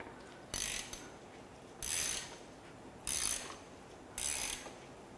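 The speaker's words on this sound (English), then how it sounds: "now I'm going to turn over the balance shaft chain just so you guys can see its operation." Four bursts of mechanical clicking and ratcheting as the balance shaft chain of a torn-down Toyota 3RZ engine is turned over, evenly spaced about a second apart, over a faint steady background hiss.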